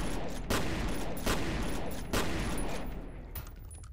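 Assault rifle fire in the F.E.A.R. video game, several loud bursts a little under a second apart over a steady wash of in-game noise.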